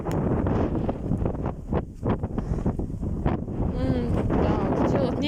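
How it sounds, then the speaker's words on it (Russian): Very strong wind sweeping across an open field in August, heavy gusts battering the microphone in a loud, continuous low roar that surges and dips, with a voice briefly heard underneath. "Ого, какой ветер."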